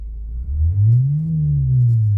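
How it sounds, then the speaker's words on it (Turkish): A 2021 Ford Ranger Wildtrak's speaker emits a faulty artificial engine sound, a loud low droning hum that rises and falls in pitch like a revving motor, heard close and alone. "Görüyorsunuz hoparlörden acayip gürültü bir ses geliyor böyle."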